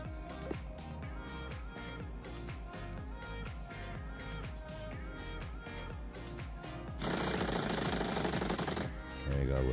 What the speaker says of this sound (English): now go grab your stupid drill again